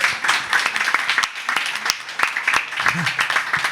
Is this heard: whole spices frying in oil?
no